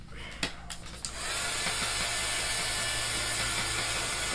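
A hair dryer blows steadily to dry chalk paste on a Chalk Couture project, starting after a few brief clicks and handling noises, then holding a continuous, fairly loud broadband whoosh to the end.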